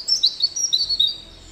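Small songbird chirping and tweeting in quick high bursts, clear and fairly close, with no talk over it.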